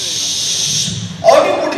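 A voice imitates an egg sizzling as an omelette fries in a pan, a steady breathy hiss lasting about a second before a brighter vocal burst, performed on stage at a mimicry show.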